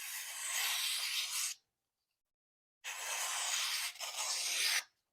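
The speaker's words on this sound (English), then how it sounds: "I can tell the sound of a blade going through this paper" A knife blade slices through paper in two steady rasping strokes, each about one and a half seconds long, with a short silent pause between them. The sound is close and fairly loud.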